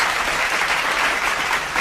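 Short burst of clapping inside a car, brief, dense and fairly loud with no voices over it.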